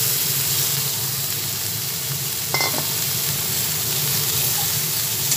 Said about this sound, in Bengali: অল্প পরিমাণে হলুদ দিয়ে লাউটা ফেলে দিলাম।